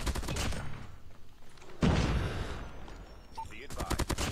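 An M16 rifle fires in Call of Duty Mobile, with rapid close bursts at the start and end and a loud crashing impact in between.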